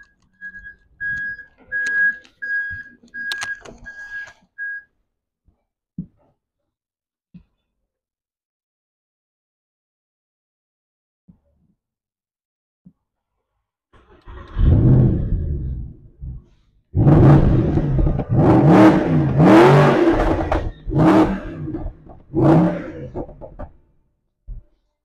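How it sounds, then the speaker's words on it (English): A Mercedes SLS AMG Coupe's engine fires up after a few faint clicks, catching with a loud starter burst and then settling into a strong, throaty idle with several sharp revs rising and falling, close by with no talk. "listen to me start it up."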